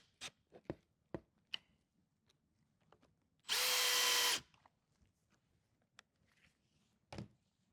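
A power drill drives screws into hanger cleats while a wall cabinet is assembled: one loud, close, high-pitched whine lasting about a second, surrounded by scattered clicks and knocks of handling.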